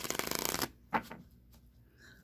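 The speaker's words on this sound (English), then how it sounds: "I'll shuffle the deck 3 times, cut the deck, and then draw all 3 cards right off the top" A deck of Rider-Waite tarot cards being riffle-shuffled up close, a dense rapid flutter of cards that stops abruptly, followed by a short second burst of card handling and a faint tap at the end.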